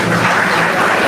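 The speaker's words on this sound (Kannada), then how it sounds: "ತಾವೆಲ್ಲರೂ ಚಪ್ಪಾಳೆಯನ್ನು ತಟ್ಟಬೇಕು" A crowd applauding a priest couple being honoured at a gathering: a dense, loud, steady wash of clapping filling the short moment with no break.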